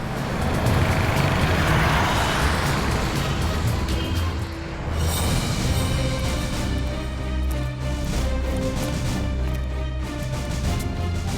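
A car moving slowly gives a loud, steady engine rumble with broadband road noise, close by and continuous, with no talk over it.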